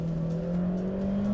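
A turbocharged 1.4-litre manual hatchback accelerates on a road, its engine note rising steadily in pitch from inside the cabin, a smooth continuous drone with no talk.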